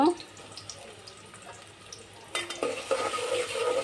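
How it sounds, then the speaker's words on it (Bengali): Onions and green chillies fry in a pan on low gas heat, a soft sizzle with stirring that grows louder and brighter partway through, with a faint voice underneath. "পেঁয়াজটা একটু হালকা ভেজে নেই।"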